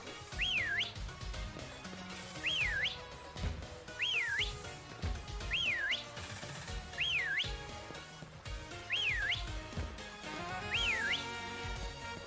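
Whistling in the Pokémon Sword and Shield video game repeats as a rising-falling whistle call about every one and a half seconds, seven times in total, over quiet game background music.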